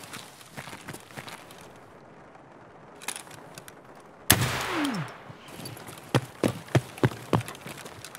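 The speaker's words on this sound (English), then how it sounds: "Let's just shoot the grenade launcher." Grenade launcher fired in the video game Raid, a single sharp blast followed by a fading whoosh, then several lighter rhythmic thumps, fairly quiet overall.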